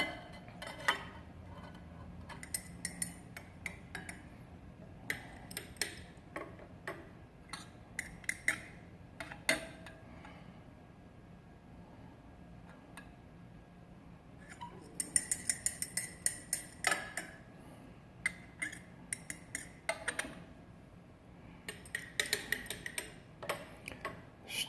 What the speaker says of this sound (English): I'm going to give them a stir here and see how the readings change